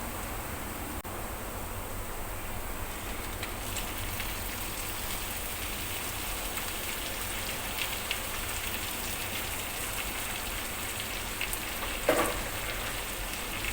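Bok choy greens fry in a pan with onions and dried red chillies, a steady, close, hissing sizzle that holds evenly throughout with a faint clink near the end.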